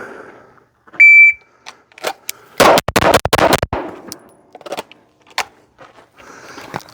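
A shooter fires a rapid string of handgun shots at a target after a timer beep. The loud, close cracks come in a quick burst, followed by scattered clicks and handling noises.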